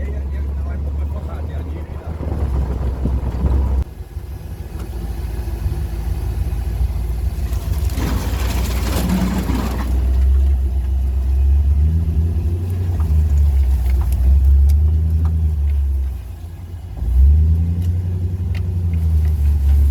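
A rumbling 3UZ-engined 4x4 drives off-road, its engine droning steadily with rising and falling revs, loud and close, while people talk over it.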